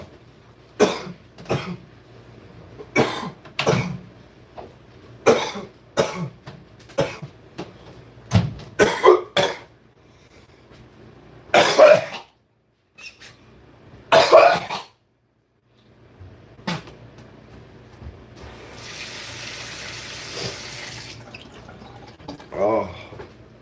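A person coughs in repeated harsh bursts after vaporizing, close and loud, with short pauses between fits, some throat clearing and a longer hissing breath near the end.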